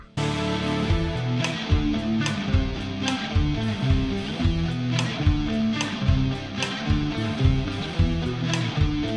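A full progressive rock band recording with driving drums, distorted guitars and bass in shifting, busy rhythms and odd time signatures, loud and dense from start to finish.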